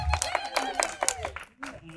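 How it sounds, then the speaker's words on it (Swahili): Guests at a wedding ceremony clapping in a quick rhythmic pattern of sharp claps, close and prominent, with voices mixed in. "Pigeni makofi, mchango unapendeza."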